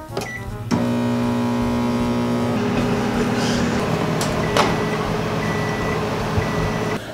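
Microwave oven running with a mug of macaroni inside, a steady close hum with a constant tonal drone after a click starts it, a few faint clicks and beeps over the top, no talking.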